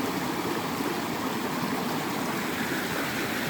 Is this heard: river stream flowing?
yes